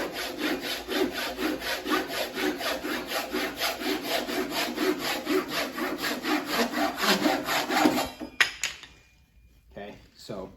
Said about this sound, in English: so there's a cut with the finer teeth.